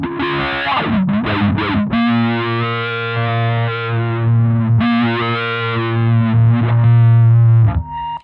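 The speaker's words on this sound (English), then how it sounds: "the basic sound of the fuzz sort of stays intact, but you have the expression that you get with the wire pedal" Electric guitar fuzz from a Wire pedal run into a Box Holy Fuck pedal, a thick sustained distorted tone with expressive swells and bends, loud and close, with held notes and a few short breaks, no voices.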